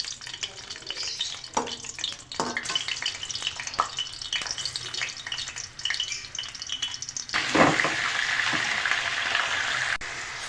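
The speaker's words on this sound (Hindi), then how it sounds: "हरी मिर्चों को बिल्कुल फ्राई करेंगे" Whole green chillies, stems still on, frying in oil in a karahi pan, a steady close sizzle with stirring scrapes that grows louder and brighter near the end.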